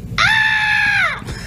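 A Google Home Mini smart speaker plays a short, loud, sustained scream sound effect lasting about a second, with a faint quiet tail after it.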